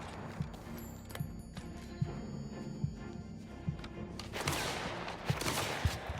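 Repeated sharp gunshot cracks at irregular intervals over a noisy background during a bandit camp fight in the video game Mafia: The Old Country, with a swelling burst of static-like noise toward the end.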